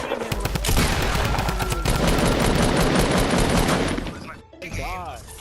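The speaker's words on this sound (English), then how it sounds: "Why does he keep shooting me?" Rapid video game gunfire in loud, dense bursts of overlapping shots filling most of the clip, then briefly cutting out before a voice speaks near the end.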